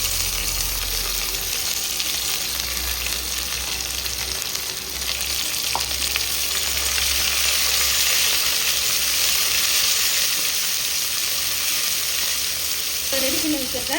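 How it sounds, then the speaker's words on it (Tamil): Onions sauté until golden in a hot pan for rasam, a continuous crackling hiss with occasional stirring sounds throughout. "வெங்காயம் நல்லா பொன்னிறமாக வதங்கணும்."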